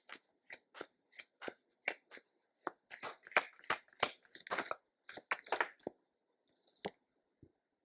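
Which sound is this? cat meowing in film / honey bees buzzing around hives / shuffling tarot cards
shuffling tarot cards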